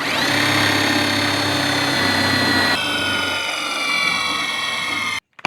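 A cordless drill whirs loudly and steadily driving a self-tapping metal screw without a pilot hole, its motor pitch shifting midway, then cuts off abruptly near the end as the battery dies.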